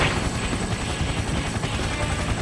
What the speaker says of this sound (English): Koromaru-san and Yukari-san drop out of the helicopter and nimbly land on the roof